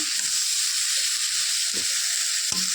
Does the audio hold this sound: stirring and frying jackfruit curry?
yes